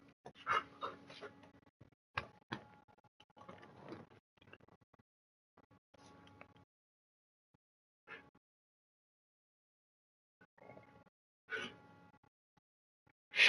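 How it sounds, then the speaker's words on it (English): A pet dog in a home barks and pants in short bursts while playing close up, with loud separate yips spread across the stretch and quiet gaps between them. "how fucking loud his bark is when he's right in your face playing"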